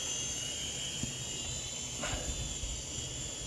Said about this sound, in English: it doesn't really want to go forward that good because of the breeze is trying to force it back